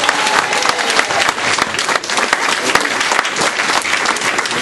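Outdoor crowd applause for a police team at the end of a protest walk against HS2 in Ruislip, a steady, dense burst of clapping from many hands, loud and close for the whole stretch.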